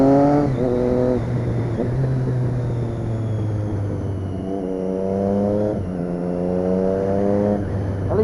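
A motorbike fitted with a new exhaust, still being run in, revs repeatedly, its engine note rising and falling in strong bursts, close and loud with no talking.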